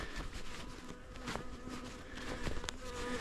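Agitated honeybees buzzing around an opened hive during a brood inspection, a steady close hum with individual bees darting past the ear, plus occasional clicks and rustles from handling.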